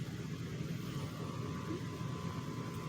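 A Bachmann Lima Berkshire #1225 Pere Marquette model steam locomotive with onboard DCC sits powered and idle, giving off a faint, steady electrical hum with a soft hiss. The hum stays low and unchanging throughout.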